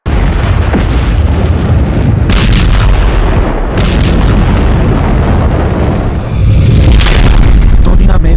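Loud, continuous rumbling explosion booms depicting nuclear blasts, with several heavy bursts rolling over one another throughout and no talk in the clip.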